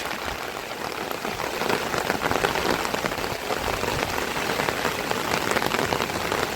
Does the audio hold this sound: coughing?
no